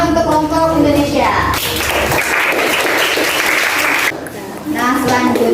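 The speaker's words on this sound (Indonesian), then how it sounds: "Kita beri tepuk tangan untuk kelompok Indonesia." A classroom of students applauds a student group named Indonesia, a dense burst of clapping in the middle framed by voices talking before and after.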